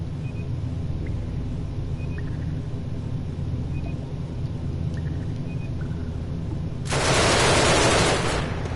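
Pistol gunfire in the sci-fi video game Genesis Alpha One, a brief harsh burst of shots near the end over a steady low ambient hum with faint electronic blips.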